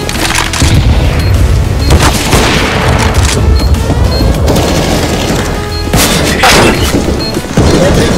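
A loud CS:GO grenade explosion booms amid a dense, continuous barrage of game gunfire and impacts, with repeated heavy blasts across the span.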